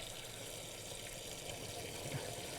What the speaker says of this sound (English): It's very handy to have the water hose and valve built into the machine,